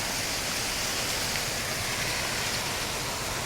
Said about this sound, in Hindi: और एक छोटा सा वाटरफॉल अभी मिला है हमें,